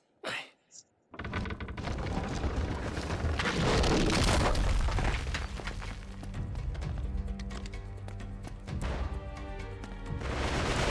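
Grenades going off in Uncharted 3 gameplay at a French château, a sharp pair of blasts opening into sustained loud booming and crashing combat noise that rolls on throughout, with dense layered impacts.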